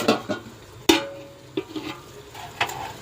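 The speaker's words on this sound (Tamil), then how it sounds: "தக்காளியை நல்லா அப்படி வதக்கிட்டு வதங்கணும்" Tomatoes sautéing in a pan for chicken gravy, with a few sharp scrapes and stirs over a low, steady background sizzle.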